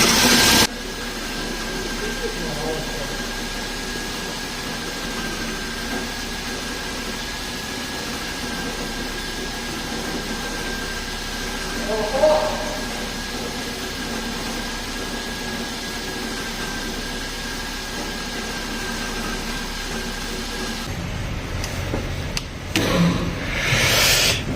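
A Mercedes S300 engine idles steadily with a faint rattling whine from an alternator with a worn bearing, a continuous hum with a brief clatter midway and louder knocking near the end.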